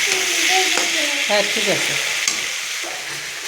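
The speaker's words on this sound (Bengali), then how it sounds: "পেঁয়াজ করে ভাজলাম" Onions sizzle and crackle in a hot pan, a steady close hiss with stirring scrapes, while someone speaks briefly over the frying.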